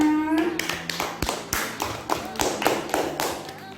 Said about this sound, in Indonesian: tepuk tangan buat fotonya